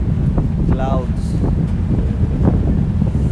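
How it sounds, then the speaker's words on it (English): Coastal wind buffets the microphone on a ferry deck along Norway's Atlantic coast, a loud rumbling low roar throughout, with a person speaking briefly over it. "Oh, and it's windy"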